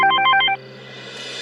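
A telephone ringing tone sounds in a short burst of rapid repeated electronic trills, then stops, leaving quiet line hiss; a call placed to a house guard.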